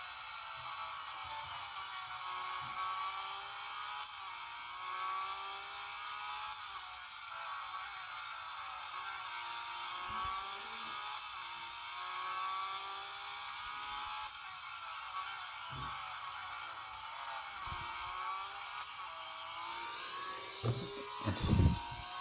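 Racing car engines from the Real Racing mobile game, a thin steady droning whine that rises and falls with gear changes, fairly faint, ending with a few sharp knocks.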